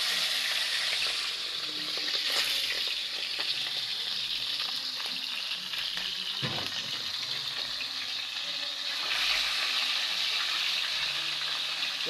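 Galunggong (scad) fish frying in hot oil in a home kitchen pan, a steady, dense sizzle and crackle that fills the whole stretch with small pops, close and loud, with no talking.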